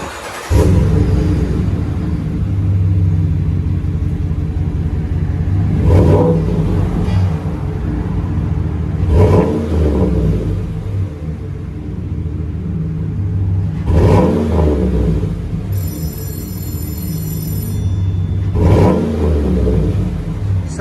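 A GMC/Chevy 6.2L V8 fitted with a Flowmaster Super 44 exhaust rumbles loudly at idle and revs hard about four times, each throttle blip swelling, then settling back to a deep, steady burble.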